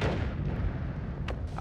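A bomb explosion in the video game Noita: a loud, dense blast with a long rumbling tail, punctuated by a sharp crack near the end.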